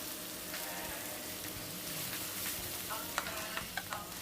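Minced garlic stir-frying in a pan for jjajang sauce gives a steady, close sizzle, with a few light scrapes of stirring near the end.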